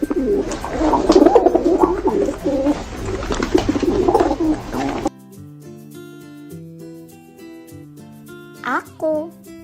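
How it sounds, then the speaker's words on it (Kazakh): A pigeon coos in a dense, throaty stretch for several seconds, fairly loud and near, before giving way to quiet background music. "Көгершін."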